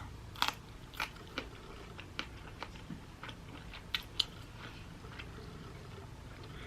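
Super spicy chile peppers being bitten and chewed up close, a series of crisp crunchy bites and wet crackling chews spread irregularly over several seconds.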